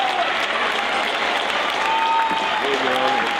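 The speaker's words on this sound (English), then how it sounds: "Big round of applause for the Royals' second unit" Crowd applause fills a high school basketball gym as the Royals' reserves return to the court, with steady loud clapping and cheering and voices audible underneath toward the end.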